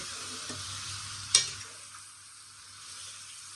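Pieces of mitta gudisela fish frying in masala are stirred with a ladle, giving a steady close sizzle with one sharp metallic scrape of the ladle against the pan.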